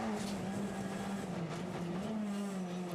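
WTCR touring race cars, a Hyundai among them, running at speed in China, a dense continuous engine drone with a steady low hum, somewhat distant and unbroken.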